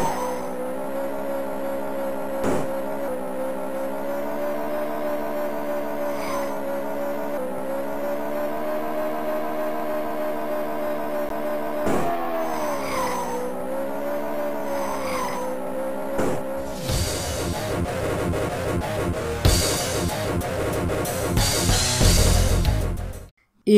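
Amiga racing game Super Skid Marks: a steady, droning engine tone from racing cars holds under in-game music, bending in pitch through turns, then skidding tires squeal and crashes clatter in a dense, loud final stretch.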